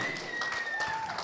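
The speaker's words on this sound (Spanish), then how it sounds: "Bueno, si le va a aplaudir, hágalo fuerte" A church congregation clapping, a brief dense patter of hands heard at moderate distance over a faint steady electronic tone.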